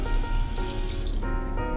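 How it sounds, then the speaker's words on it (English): Tap water runs steadily into a sink to rinse carrots, a continuous close splashing hiss with slight shifts in flow and no voices. "Clean them with water"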